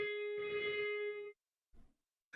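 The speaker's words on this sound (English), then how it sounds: "it kind of sounds like that little ring from a phone, from an old phone" A sampled Indie Fingers instrument tone plays a bright, sustained ringing note with reverb, resembling an old telephone ring, lasting just over a second before cutting off, followed by a short low thump.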